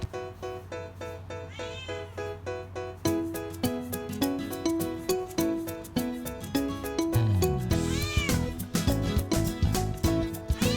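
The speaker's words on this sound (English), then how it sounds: "he thought it's his breakfast time and kept meowing for his breakfast" A male house cat meows again and again for his breakfast, loud and close, the calls coming in a steady insistent rhythm with a musical tonal backdrop throughout.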